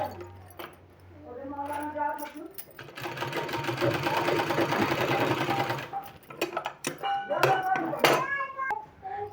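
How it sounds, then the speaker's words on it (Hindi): A sewing machine stitches a sleeve design, its rapid even chatter of needle strokes running for a few seconds after a woman explains the work, followed by clicks and handling sounds as talk resumes. "दोस्तों इस तरह से पूरे में हमको सिलाई लगाना है।"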